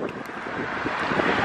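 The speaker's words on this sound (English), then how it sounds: "this is the wind." Strong, steady wind buffets the microphone on a walk to a Hawaiian beach, a dense continuous roar with no voices.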